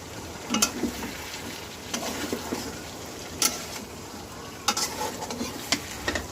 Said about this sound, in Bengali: মুরগিটা প্রায় হয়ে গেছে কষানো